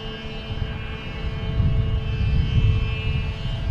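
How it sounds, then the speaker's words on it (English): An airplane at Boston Logan Airport produces a steady broadband engine roar that builds slightly and holds, loud and continuous, with faint tonal whines running through it. "There's the plane."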